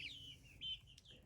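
Backyard chickens give soft, high chirping clucks, a few short calls close by in a quiet setting.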